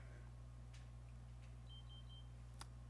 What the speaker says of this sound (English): let me turn off my stupid diabetes alarm thing